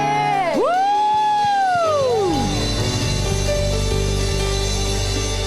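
Young people at a church service cheer and whoop in a rising sweep of voices, then settle into a loud, steady crowd roar with clapping mixed in.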